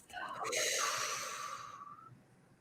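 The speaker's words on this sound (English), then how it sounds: "Breathe in. Exhale through the mouth." Deep mouth breathing during a guided meditation clearing session: a loud breathy inhale swelling into a long, airy exhale that fades out, close to the listener with no talking.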